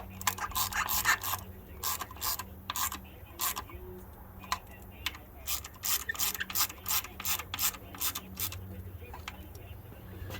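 A torque wrench clicks in a series of sharp, close ratcheting snaps while bolts are tightened on a 2012 Ford Fusion during valve cover and spark plug work, with a low mechanical hum underneath.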